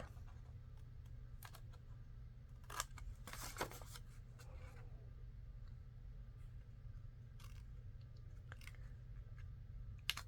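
Scissors cut paper pieces off while pockets are being made. Soft, close snipping and crunching clicks come in short bursts over a low, steady hum in a quiet room.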